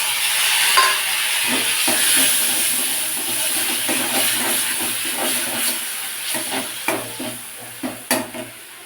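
Tomato paste sizzles and hisses steadily in hot oil for a home-style pointed gourd dish, close and continuous, with scraping stirs and soft utensil knocks growing more frequent toward the end.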